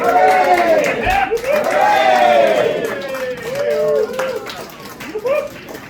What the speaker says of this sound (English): welcome him to the stage with hip hip hoorays and applause